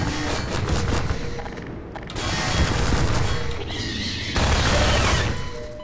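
Rapid bursts of gunfire crackle loudly in dense volleys, broken by brief pauses, like intense combat sounds in the game Half-Life 2: Episode One.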